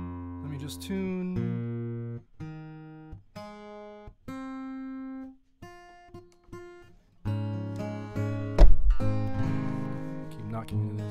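Single plucked notes on a guitar are sounded one after another with pauses between them as the instrument is tuned, ending in a louder strummed chord with a thump near the end.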